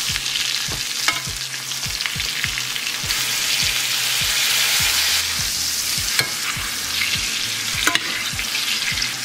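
Butter sizzles loudly in a frying pan during holiday cooking, a constant close crackling hiss with regular soft knocks and scrapes of a utensil stirring through it; no voices.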